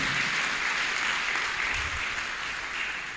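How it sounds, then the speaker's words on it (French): A church congregation applauds and cheers for the Lord, a dense, even wash of clapping from many hands that holds steady throughout, slightly distant and roomy, with no speech over it. "Est-ce que vous pouvez acclamer très fort pour le Seigneur?"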